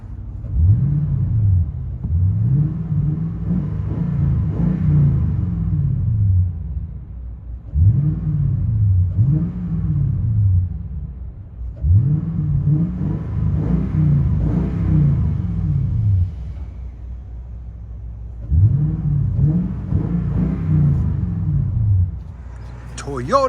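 Toyota Tundra 5.7L V8 with an X-pipe exhaust, heard from inside the cab: a deep, loud rumble rising and falling in repeated revs and accelerations, steady and close throughout.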